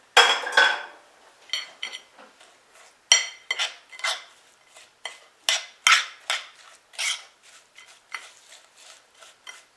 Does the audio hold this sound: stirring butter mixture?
yes